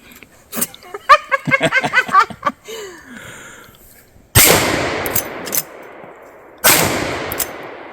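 Two loud gunshots ring out a couple of seconds apart, each with a long rumbling echo across open ground, following a burst of nearby laughter.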